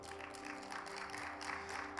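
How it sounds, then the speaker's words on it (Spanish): Faint, steady applause from a church seminar audience, a continuous wash of many hands clapping heard from a distance with no clear break. "¿Cuánto le dan un fuerte aplauso al Señor,"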